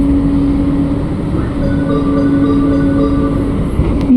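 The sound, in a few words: LRT Jabodebek train entering Halim station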